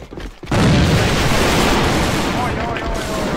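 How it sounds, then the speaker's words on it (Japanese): A grenade blast in a first-person shooter game, a sudden loud boom followed by a sustained roar of gunfire and explosions that fills the rest of the moment. "手榴弾を使うぞ"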